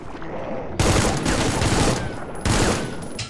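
Rapid automatic gunfire in the shooter game Supplice, with two dense, loud bursts of shots, the first running over a second and the second starting near the end, following a quieter stretch of game ambience.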